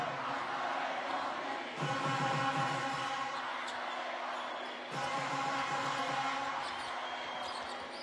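A basketball arena crowd in Tehran swells into loud oohs and aahs in two waves, a big rising murmur of many voices filling the hall, with a commentator talking over it.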